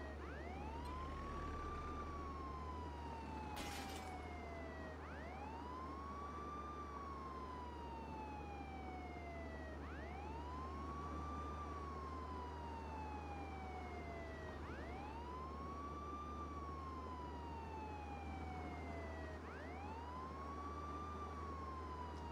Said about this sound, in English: we're gonna go ahead and just have the siren blaring